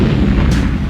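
A heavy cannon bombardment pounds city walls during an Ottoman siege, producing a loud, deep, rumbling boom that fills the entire second.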